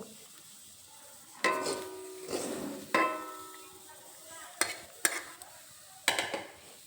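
Cooked radish greens are scraped from a pan into another pot, giving several sharp metallic scrapes and clinks in separate bursts against a quiet kitchen background.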